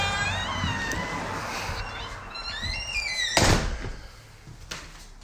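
The front door of a stone house offering office space for rent creaks open with squeaky, drawn-out tones, then shuts with a solid thud partway through, heard close in a quiet room.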